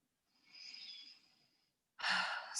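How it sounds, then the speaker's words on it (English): Slow, deep breaths during a guided meditation: a soft, airy exhale lasting over a second, a brief silence, then a louder, fuller breath close to the mic, with no talking. "take a few deep breaths"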